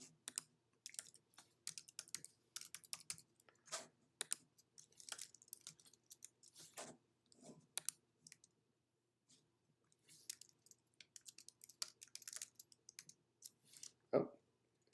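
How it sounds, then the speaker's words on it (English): Typing on a computer keyboard, quiet close clicking of keys in irregular bursts and pauses, ending with one louder thump, with no talk. "All we have to do is type in John Doe's information."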